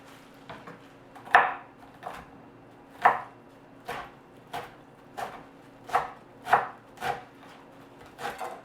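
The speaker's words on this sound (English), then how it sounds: "now we just chop it up" A knife chops parsley on a board in about ten crisp, evenly spaced strokes, close and clear with quiet gaps between, and no one talking.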